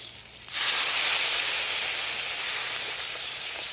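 Ground spices, chili and cumin powder, sizzle in a hot pan for an egg curry as a little water is added, a sudden loud hiss that stays steady and close.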